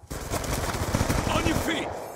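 Rapid automatic gunfire in the Call of Duty Black Ops 2 video game rattles in dense bursts, with shouted voices and game noise mixed in under the shots.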